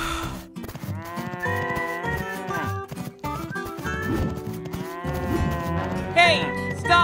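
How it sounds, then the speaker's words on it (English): A cartoon cow moos loudly and repeatedly, its drawn-out bellowing calls bending in pitch and following one another closely with brief pauses between. "What is wrong with this cow?"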